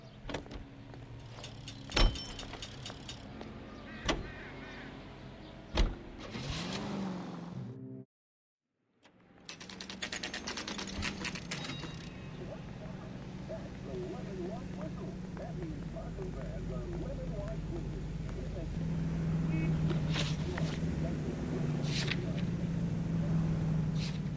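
Car engine hum and road noise while driving in the 1940s Los Angeles game L.A. Noire, with door and mechanical clunks early, a short silent gap, then steady driving under occasional talk.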